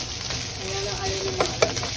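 Onions sautéing in butter in a pan, a soft steady sizzle with a couple of brief stirring clicks, close and fairly quiet, with no talking.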